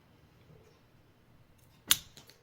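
Scissors snip through a small folded paper circle, a single crisp cut near the end followed by faint rustling, close and quiet with no talk.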